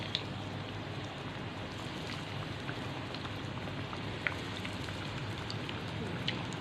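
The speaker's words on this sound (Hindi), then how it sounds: "सारी स्टिक्स को पकड़ के आपने आहिस्ता आहिस्ता ऐसे ऑयल में रखते जाना है।" Chicken and potato drumsticks fry in oil over medium-low heat, a dense, even crackling sizzle like steady rain, with occasional sharper pops and no voices.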